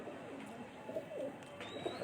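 Lahore flyer pigeons, a banded breed, give soft repeated coos close by, a few low murmuring calls spread across a quiet background with no talk.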